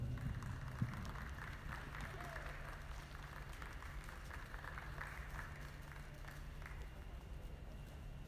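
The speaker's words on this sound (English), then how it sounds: "give these exhibitors another big round of applause" Faint, distant applause rises from the audience for exhibitors at a dairy cattle show in an arena, a low steady patter under the hall's background hum.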